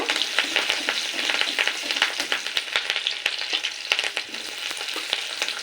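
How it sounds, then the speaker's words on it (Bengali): Chopped garlic and ginger frying in oil for chilli soyabean, a steady close sizzle with dense crackling pops and occasional stirring scrapes throughout. "একে একে সমস্ত কুচিগুলো দিয়ে আমি হালকা ফ্রাই করে নেব"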